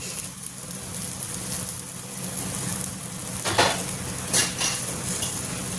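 Stuffed okra (bharwa bhindi) cooking slowly in a little oil in a pan over a low gas flame, a steady soft sizzle throughout with a few brief clinks of a utensil against the pan near the end.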